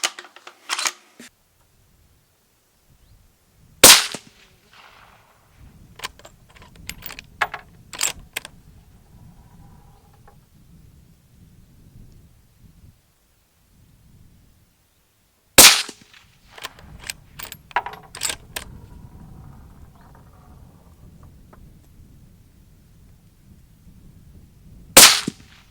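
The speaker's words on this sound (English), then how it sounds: "this is another safe dry fire, is actually very nice in use." A Franchi rifle is dry-fired, each trigger pull giving a crisp, loud mechanical click. A few clicks are spread far apart, with softer rustling and handling noise in between.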